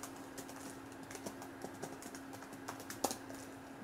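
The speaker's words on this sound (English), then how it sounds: "I'm gonna type in my name." Keys tapped on a computer keyboard while a name is typed during a Windows Embedded POSReady 7 setup, a quiet, fairly steady run of light clicks with one sharper tap near the end, no talking.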